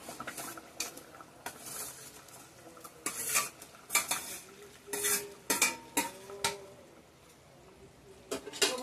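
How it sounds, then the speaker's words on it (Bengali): Paneer cubes going into a pan of boiled potatoes and getting stirred, with spoon scrapes and clinks against the metal in irregular bursts over a light background sizzle. "তো এই যে পনিরটা দিয়ে দিব এখন"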